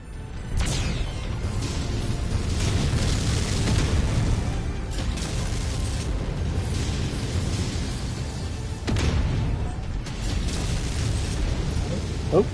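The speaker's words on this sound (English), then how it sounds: "Explosion imminent." Sustained rumbling explosions and blasts in the mech combat game Mechwarrior 5, with a broad roaring wash and sharper bursts near 0.5 and 9 seconds, continuous and loud throughout.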